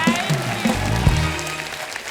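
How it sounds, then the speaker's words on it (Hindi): A studio audience on a comedy talk show applauds the guests in a short burst of clapping, with voices mixed in over it. "दोस्तों जोरदार तालियां होनी चाहिए हमारे आज की मेहमानों के लिए"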